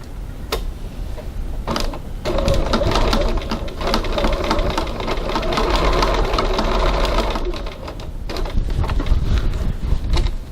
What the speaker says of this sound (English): we're just going to go over to the sewing machine and baste those two strap tabs in place